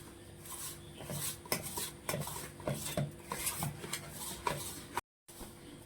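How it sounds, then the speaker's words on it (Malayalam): Scraping and stirring fill the bowl as an egg is worked into a rice and wheat flour dough, a close, fairly busy run of rubbing and light clinking strokes that stops briefly near the end. "ഇനി ഇതിലേക്ക് നമുക്ക് ഒരു മുട്ടയും കൂടി പൊട്ടിച്ചിടാം. എന്നിട്ട് അതും ഇതുമായിട്ട് നന്നായിട്ട് യോജിപ്പിക്കണം."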